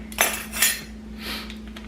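A metal teaspoon clinking against a bottle or dish while measuring imitation vanilla, two quick close clinks then a softer scrape, no talk, over a faint steady hum.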